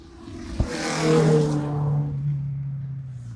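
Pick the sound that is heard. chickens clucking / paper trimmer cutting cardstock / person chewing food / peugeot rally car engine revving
peugeot rally car engine revving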